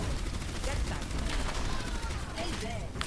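Rapid automatic gunfire in the Overwatch match, a dense continuous barrage mixed with game effects and a voice talking over it.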